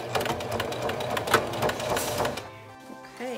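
Sewing machine stitching the boning channels of a corset, a close rapid mechanical chatter with quick needle pulses that stops after about two and a half seconds, followed by faint handling sounds and a brief murmur.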